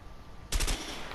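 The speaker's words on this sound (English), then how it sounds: "M16, burst fire." An M16 rifle on burst fire in the video game A Way Out lets off a short sharp burst of rapid shots, loud after a quiet moment, with a brief ringing tail and no talking.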